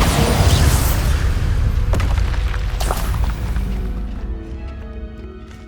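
A loud spell blast from Hogwarts Legacy on PlayStation 5 booms at the start, with a few sharp crash-like hits layered in before the rumble slowly fades into quieter ambient game sound.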